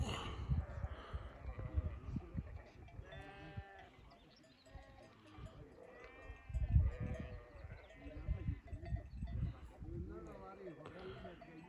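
Sheep bleat repeatedly on a windy mountainside in the Nurhak Mountains, their wavering calls overlapping in a herd near wild goats, with a voice talking and steady wind noise underneath.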